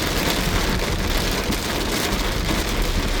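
Heavy rain pours down in a dense, constant roar, drumming hard on surfaces with no voices.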